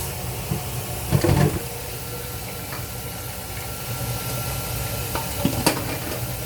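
Pork frying in a pan just after water goes in, a steady close hiss and sizzle with a couple of louder stirring scrapes, no talking.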